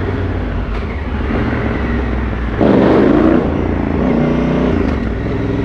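An adventure motorcycle's engine rises sharply in a loud rev mid-clip during a wheelie, a steady drone before and after, with no talk.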